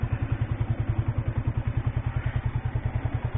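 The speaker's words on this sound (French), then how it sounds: "il faut laisser le moteur chauffer ils disent entre 2 à 4 minutes en donnant quelques coups d'accélérateur" A 1987 Yamaha SR 125 SE motorcycle idles while warming up, its single-cylinder engine thumping in a steady, fast, even rhythm close by, with no talking.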